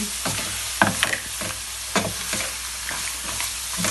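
Tomato puree cooking in a hot pan, a close, loud steady sizzle with rhythmic stirring scrapes and utensil taps against the pan, no voices.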